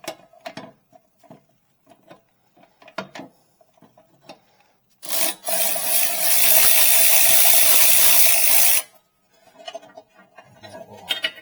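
A ratchet on a swivel extension works loose the rear brake caliper bolt on a 2018-2022 Chevy Equinox, with sparse close clicks and scrapes, then a loud sustained ratcheting rasp for about four seconds before more scattered clicks.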